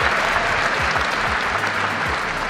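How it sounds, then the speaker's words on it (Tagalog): An audience applauds steadily throughout, a dense, even wash of clapping from many hands at a public gathering, loud and unbroken with no voices standing out. "ba't kayo pumalakpak?"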